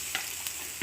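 Beaten egg frying in plenty of oil in a pan, a short steady sizzle with a few faint clicks of a utensil.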